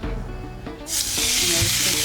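Marinated beef steak hits a very hot pan, bursting into a loud, sustained hiss of searing after a brief quieter moment with a couple of soft knocks, close and continuous.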